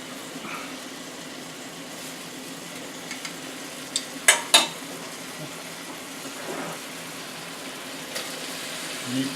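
A cornstarch-thickened sauce for crispy beef and cabbage is stirred in a pan, giving a steady close bubbling sizzle broken by a few sharp clicks and scrapes of the utensil, with no talking.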